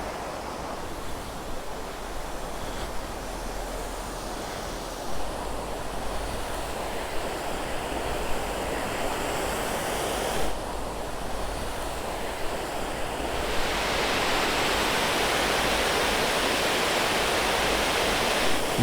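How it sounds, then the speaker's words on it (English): River streams and waterfalls by the Korana River in Croatia rushing steadily and loudly close by, a dense, continuous wash that swells slightly stronger toward the end, with no voices. "You have streams and waterfalls right beneath your house."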